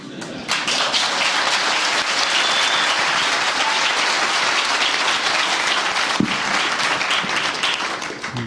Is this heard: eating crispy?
no